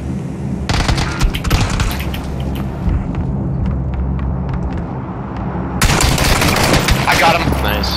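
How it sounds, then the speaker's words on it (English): Gunfire in a video game, with loud bursts of rapid automatic shots and some heavier blasts that come close and continue almost throughout, while players talk over them. "Who is shooting at somebody in a dune buggy?"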